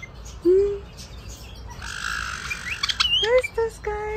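White-bellied parrots at a bird park call back and forth with sharp whistles, squawks and rising chirps, several distinct calls close by over a low background hum.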